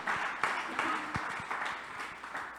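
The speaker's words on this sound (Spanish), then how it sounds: "dale un aplauso fuerte al Señor" A church congregation claps for the Lord in a fairly quiet, scattered round of applause lasting a couple of seconds, with no voices.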